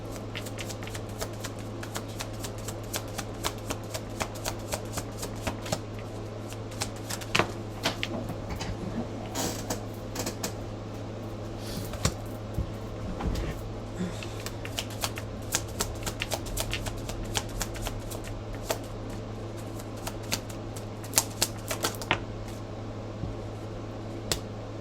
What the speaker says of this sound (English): We will pull one more card to see.